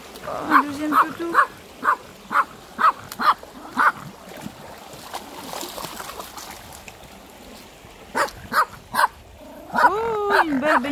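Two dogs out by 7°C water in early January give a run of sharp, evenly spaced barks and yips, then a pause, then more barking and a whimpering whine, with a faint stream in the background.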